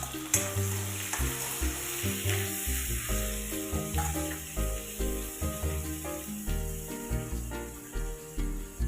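Finely chopped onion sautéing in a pan for a dill leaf (shepu) bhaji gives a steady, close sizzle throughout, with a tonal musical backing underneath.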